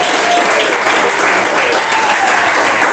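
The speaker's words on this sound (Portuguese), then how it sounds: "Bate palmas e dá glória a Deus." A church congregation claps together, a loud, continuous wash of many hands with no breaks, filling the room evenly throughout.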